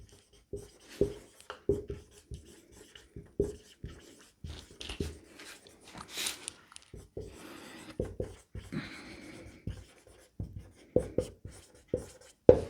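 A pen writing on a board or paper in a classroom-style lesson, with short scratchy strokes and taps in irregular bursts, close and fairly quiet with brief pauses, no talking.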